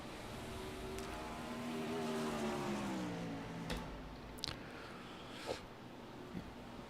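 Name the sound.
410 wingless sprint car engine on the Eldora speedway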